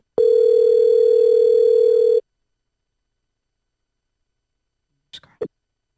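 A steady telephone tone sounds for about two seconds, followed by silence and a couple of brief clicks.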